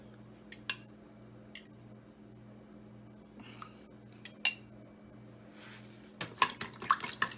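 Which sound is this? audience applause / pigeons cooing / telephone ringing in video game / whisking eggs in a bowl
whisking eggs in a bowl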